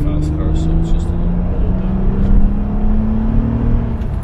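Honda Accord pulling away in a short burst of acceleration, engine tone rising steadily from inside the car, with a voice talking over it.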